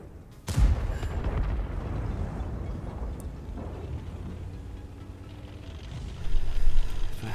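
A tank cannon shot in World of Tanks goes off once as a sharp, loud boom early on, then rumbles and fades into low battlefield and engine noise, with another heavy swell near the end.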